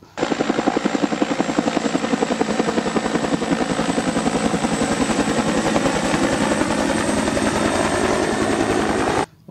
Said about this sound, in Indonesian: Ini adalah mainan helikopter teman-teman.